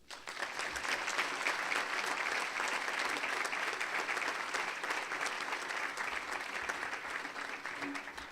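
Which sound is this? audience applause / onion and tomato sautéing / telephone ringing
audience applause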